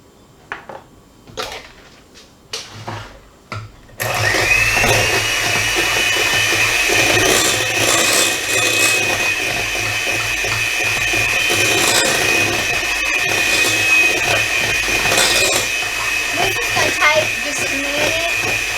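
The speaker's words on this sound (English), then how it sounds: "I like to use a mixer and smooth mine down just a little bit" An electric hand mixer whirs steadily as it smooths deviled egg filling in a bowl, a loud continuous buzz with scraping rattles after a few soft clatters at the start.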